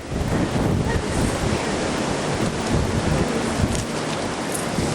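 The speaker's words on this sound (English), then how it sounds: "So this got to be the worst storm we've had here." Hurricane Sandy's winds battering a trailer park in Connecticut during the 2012 superstorm, a loud continuous roaring rush like heavy surf and rain that never lets up.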